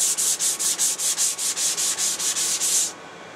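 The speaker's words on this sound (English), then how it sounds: "I'll come back and sand with the grain to clean up any marks or irregularities" Sandpaper rubbed along the grain of a wooden disc in about a dozen steady back-and-forth strokes, close and crisp, then stopping.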